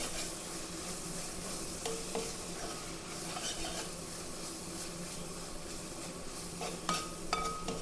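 Onions, green chilli, ginger and garlic sauté in a pan with pepper, turmeric and masala powders, giving a steady close sizzle broken by scraping stirs and a few light metallic clinks, with no talking.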